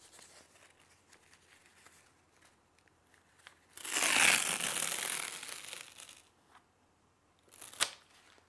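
Athletic strapping tape is torn for a wrist taping job: one loud, sustained ripping tear lasts about two seconds, then a short sharp rip follows, both close over a quiet background.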